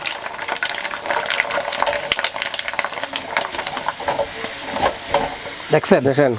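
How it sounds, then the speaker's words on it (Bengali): Potato chips fry loudly in hot oil with a dense, steady sizzle and bubbling that is stirred throughout, close and continuous. "গরম তেলের মধ্যে যা শুধু চিপস দিব আর হবে দিলেই হয়ে যাবে"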